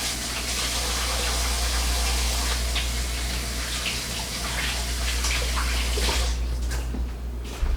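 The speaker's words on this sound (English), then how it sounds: "Let me wash my hands quickly." Tap water runs steadily while hands are washed beneath it, a loud close gushing splash that continues throughout, with brief clatter and the flow cutting off near the end.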